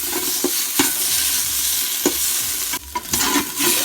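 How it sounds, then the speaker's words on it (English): Raw tomato paste fries in a beef stew pot under a steady close sizzle, while a utensil stirs and scrapes against the pot in several distinct strokes. "we're going to mix in 2 tablespoons of raw tomato paste"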